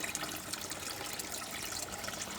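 Water pours steadily into a floating hydroponic vegetable tank, a continuous close gushing and splashing with no voices.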